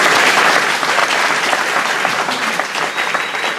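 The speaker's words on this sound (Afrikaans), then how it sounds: "dames en here, Dana Snyman, klap van lekker hande." Sustained audience applause fills a hall after a speaker introduces author Dana Snyman, dense steady clapping holding at full strength throughout without letting up.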